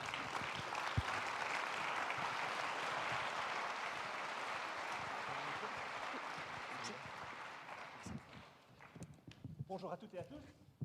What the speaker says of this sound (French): Et on peut l'applaudir quand même pour l'encourager.